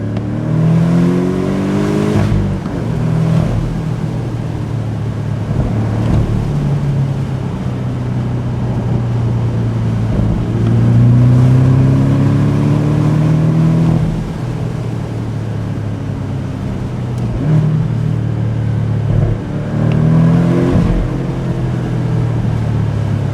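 A Porsche 718 Boxster GTS driven hard on a winding back road, its engine loud and close, repeatedly revving up through the gears with rising pitch sweeps and brief drops between shifts, no talking.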